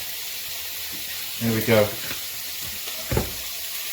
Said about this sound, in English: in this other pan, I'm going to get that nice and heated. I'm going to put a teaspoonful of olive oil in there.